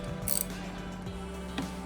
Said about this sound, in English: I'm going to use a small extension with a 1/2 inch ratchet and a 14 millimeter